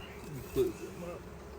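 Honeybees humming in an opened hive during a first inspection, a low steady buzzing drone with a brief louder swell close by.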